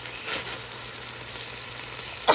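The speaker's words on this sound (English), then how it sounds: "I'm just going to get this nice seared and warmed up for about 15 minutes" Tomatoes, garlic and cilantro sear in a pan for birria, giving a steady close sizzle with a brief stir near the start and a sharper clatter right at the end.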